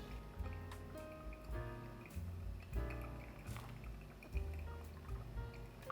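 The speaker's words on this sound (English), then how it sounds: "Now I apply the last 90 grams of water, just a bit more gently compared to the previous pours" Water pours gently over coffee grounds in an OREA V3 brewer, a soft trickling stream with small drips and splashes, close and quiet with no talking.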